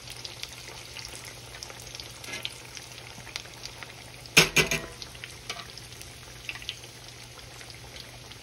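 Old-school bread fries quietly in a pan with a soft, steady sizzle. There is one sharp clatter midway as the pieces are moved around, plus light scattered crackles.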